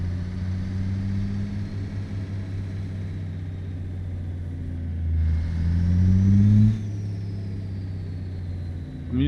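A truck engine from a Z mod sound pack in American Truck Simulator drones steadily at low pitch, rising briefly as it revs before settling back down, with a short hiss near the end.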